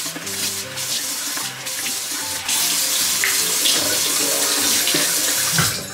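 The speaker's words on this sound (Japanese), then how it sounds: "まず顔を洗いたいと思います。" Tap water gushes into a sink while someone washes their face, a steady close-up splash with brief changes in the flow as hands move through the stream. No one speaks.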